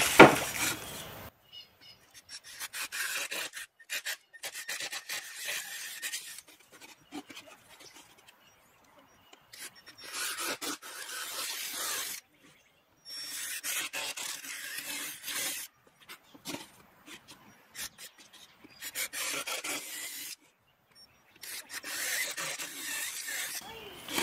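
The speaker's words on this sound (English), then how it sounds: "So then we'll sand this down." Hand sanding of scrap plywood, a dry scratchy rasping in repeated strokes of a few seconds each with short pauses between, close by and alone.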